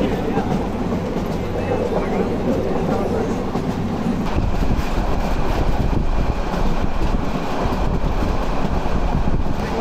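Inside a moving Mahanagar Express passenger train out of Dhaka, a continuous loud rumble of wheels and carriage rattle with wind rushing through, growing rougher and louder partway through, with a voice faintly present.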